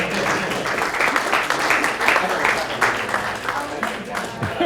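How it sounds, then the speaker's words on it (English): An audience claps at a .NET Core conference session to cheer a prize winner, a dense, steady patter of many hands filling the room for several seconds. "Everybody, clap, please."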